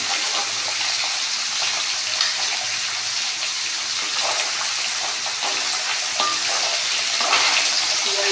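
Fish frying with vegetables in a home kitchen pan: a continuous, even hiss and crackle of hot oil, fairly close and steady throughout, with occasional faint clinks.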